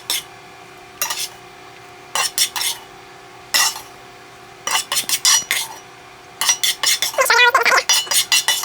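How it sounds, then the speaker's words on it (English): Utensil stirring meat mixture into a simmering Bolognese sauce, with repeated scraping clinks against the pot in short bursts and a low steady simmer beneath, close and fairly loud. "I'm just going to stir it in as it simmers."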